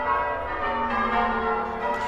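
Church bells rung by a team in the tower at St John's Church in Redhill, a sustained, overlapping ringing tone that fills the short stretch at moderate level with no talk.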